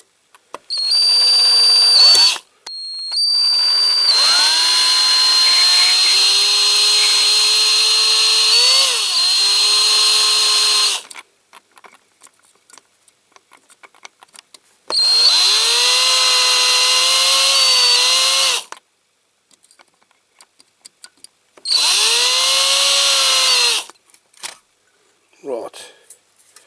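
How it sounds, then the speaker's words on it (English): A power drill bores into a Dinky Toys ABC TV model van in loud, whining bursts: a short one, a long steady run, then two more, with quiet gaps between them. "I started it off, so I put a bigger drill bit in."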